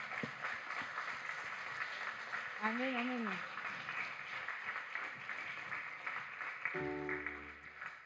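A church congregation claps along during a worship service, a steady, dense patter running under voices and a brief sung phrase throughout.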